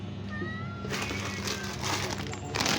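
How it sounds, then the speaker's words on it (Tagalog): A pet cat meows a few times at feeding time, thin drawn-out cries against a steady background hum, with some rustling noise partway through. "Pakainin na natin yung mga alaga natin na pusa guys."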